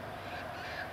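A person imitating a bird call, sounding like a crow's harsh caw, a raspy continuous call held close and fairly loud throughout with no other voices.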